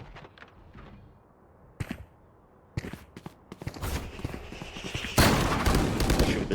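Sheriff pistol shots in the tactical shooter Valorant ring out as sharp, scattered cracks over quieter footsteps and game ambience, building to a denser, louder stretch of gunfire near the end.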